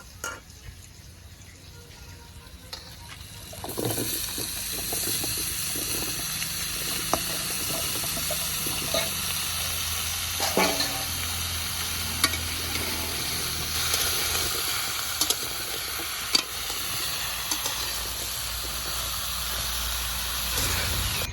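Bottle gourd added to frying potatoes in a pan lets out a sudden loud hiss that settles into a steady, close sizzle with occasional stirring scrapes, no voices over it.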